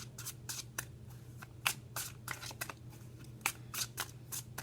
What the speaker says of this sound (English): I think that's just due to my clumsy shuffling